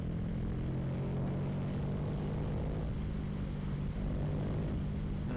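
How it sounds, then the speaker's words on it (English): Kawasaki Ninja 650 parallel-twin motorcycle fitted with an aftermarket Akrapovic exhaust, its steady low engine drone running loud and continuous throughout, with no talk over it. "That is with an aftermarket Aquapovic exhaust, but the beat of the parallel twin is kind of addictive actually."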